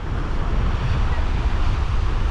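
Ocean surf at Mexico Beach rushes in a continuous, loud broadband wash, heavily blended with wind buffeting the microphone, and no voices are heard.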